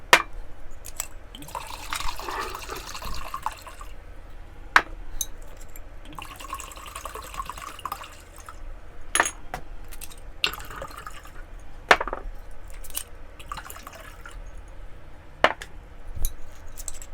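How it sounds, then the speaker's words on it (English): Wine is poured into a container to start homemade vinegar, with the mother culture then stirred in. Liquid splashes and trickles in bursts with scattered drips and light glassy knocks, close and alone with no talking. "dump in all of our wine and stir in the mother"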